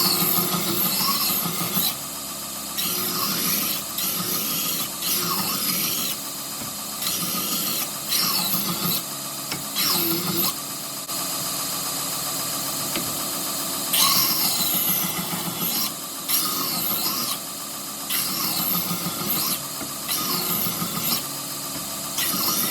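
A belt grinder shaping a Bowie knife made from an old rasp, steady loud abrasive grinding with short breaks as the blade is lifted and pressed back onto the belt.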